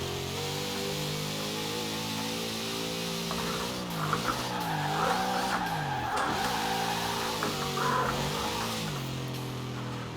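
A drift car's engine drones and revs up and down in wavering surges while its tires squeal and skid in bursts through the middle, loud and steady with no voices.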